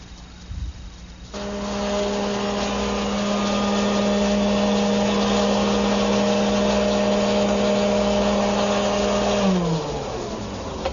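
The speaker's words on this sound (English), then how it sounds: "there's the first pass through my router shaper table, and what I've done is created a 1/4 round with a little lip on it, just using a 3/8 inch radius coving bit" A router shaper table spins up with a steady high whine as a 3/8 inch radius coving bit cuts a quarter-round profile into wood. The motor runs loud and even, then winds down at the end.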